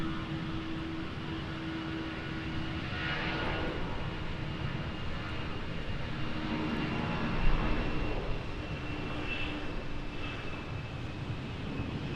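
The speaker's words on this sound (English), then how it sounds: "Nice buzzsaw sounding departure." Jet airliner departing Raleigh-Durham airport in stormy weather, engines giving a buzzsaw tone, a steady moderately distant roar with faint tonal whines.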